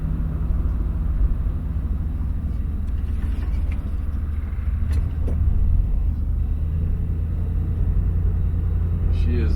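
A 1966 Mercury Parklane convertible on the road, a steady low engine rumble with tire and wind noise, the car cruising smoothly throughout.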